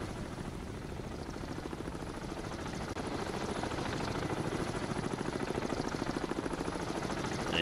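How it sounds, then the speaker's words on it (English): Steady rhythmic thumping of video game helicopter rotor blades, growing gradually louder as it approaches, with no voices. "Here comes the helicopter."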